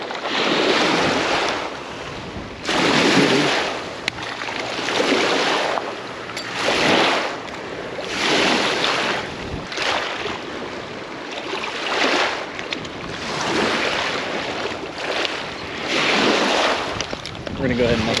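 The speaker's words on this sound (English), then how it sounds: "This wind's kind of getting crazy" Strong wind buffets a fishing boat on open water, with rhythmic gusts and surf-like rushes swelling every couple of seconds, loud and close against the microphone, with a voice now and then underneath.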